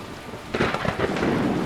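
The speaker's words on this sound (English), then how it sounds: "Rain. Skyrim weather at its finest." Steady rain and rolling thunder in a Skyrim thunderstorm fill the scene with a constant hiss, swelling into a louder rumbling surge partway through.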